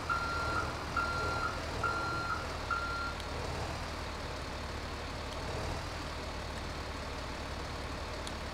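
A truck in GTA V reversing while parking, with four evenly spaced reversing beeps over a low engine rumble, then the engine idling on alone.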